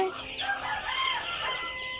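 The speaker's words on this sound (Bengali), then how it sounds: "এই যে দেখছেন আমাদের মুরগির বাচ্চাগুলো" A flock of Fayoumi chicks peeping and chirping continuously, many overlapping high calls close by, with occasional clucks mixed in.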